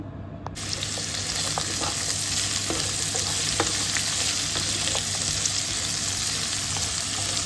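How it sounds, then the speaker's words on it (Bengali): Cut radish pieces frying in hot oil in a pan, a dense continuous sizzle with scattered light pops and a few stirring clicks, close and fairly loud, no voices. "মূলাগুলিও ঠিক এইভাবে কেটে একটু ফার্স্টে ফ্রাই করে নিব"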